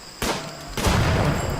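A loud explosion in the RimWorld colony game bursts suddenly, then a second blast follows, and a broad rumbling roar carries on afterward with no talk.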